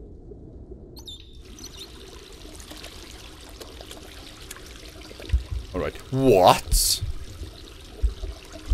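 Hand-washing water in the Devotion horror game pours and splashes briefly in the middle of the clip, loud against a quiet room, with a short spoken exchange nearby.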